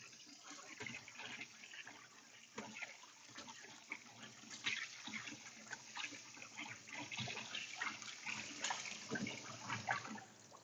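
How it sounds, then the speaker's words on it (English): Boiled yakisoba noodles are rinsed under running tap water, a steady close splashing and trickling stream that continues throughout with no voices. "most of the time you wash the noodles after you boil them"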